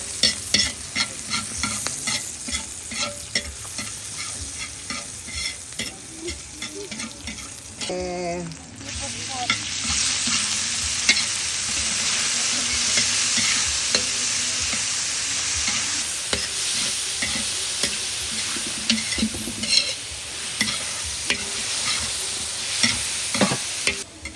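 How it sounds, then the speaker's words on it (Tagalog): Garlic and onion sautéing for pancit bihon, with a continuous close sizzle broken by repeated scraping stirs of a utensil against the pan; a brief louder clatter interrupts partway through. "magigisa dito ng bawang at sibuyas."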